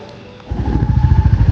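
A motorbike, set to ride off toward a Shani temple in Delhi, starts up after a quiet moment and settles into a loud, close, throbbing engine idle with rhythmic low pulses.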